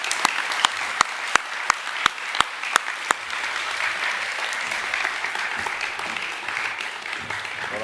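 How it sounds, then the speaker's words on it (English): Audience applause at a junior school academic assembly, a dense wash of clapping that continues steadily throughout, with a few sharp close claps standing out early on. "Can we give these boys a big round of applause"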